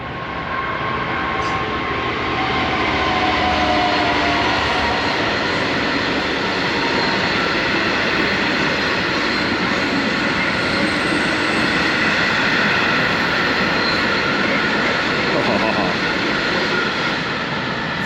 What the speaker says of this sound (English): Freight belongs on rails, lovely. DB Cargo UK, lovely.